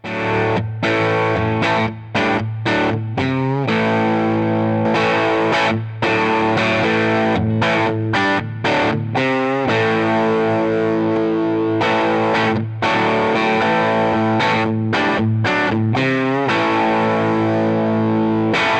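Electric guitar through a Boss OD-3 or Nobels ODR-1 overdrive pedal into a valve amp plays loud, sustained chords and choppy riffs, thick and saturated, with brief gaps between phrases.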